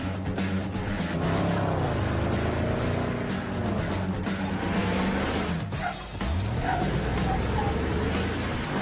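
A BMW 6 Series car drives with a steady, loud engine roar and tire noise that fills the whole stretch, rising and falling in pitch as it accelerates, with a brief dip near the middle.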